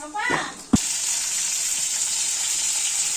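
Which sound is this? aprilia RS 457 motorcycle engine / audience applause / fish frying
fish frying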